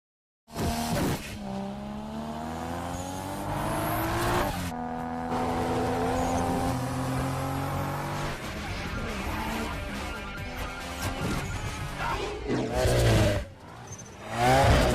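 Four cars race through the street in a scene from Fast and Furious 2 (2003), engines revving loudly with rising and falling pitch, tires squealing, and one sharp burst near the end.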